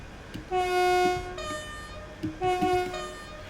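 ScotRail Class 158 Sprinter train in Saltire livery on the Fife Circle Line in Train Sim World 6 sounds two loud, clear horn blasts, each a sustained chord of bright tones, with no talking.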